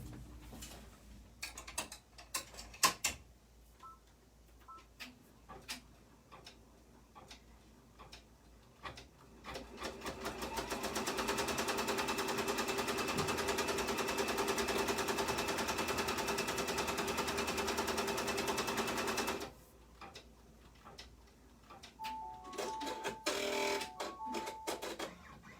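A home embroidery machine stitching a snowflake pattern, running steadily for about ten seconds between intermittent clicks and ticks of the mechanism, fairly close and moderately loud.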